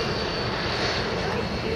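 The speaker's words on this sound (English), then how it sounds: "the F-100 Super Sabre that he's flying right now" An F-100F Super Sabre jet flies past at the Thunder Over Michigan air show, giving a steady, loud, broad engine roar throughout.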